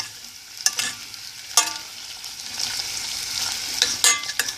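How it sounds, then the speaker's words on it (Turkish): Parboiled potatoes frying in oil with salt and chili flakes for a potato gözleme filling, a steady sizzle broken by several sharp scraping stirs of a spatula, close up with no talk. "Patatesi biraz haşladıktan sonra yağda kavuruyorum"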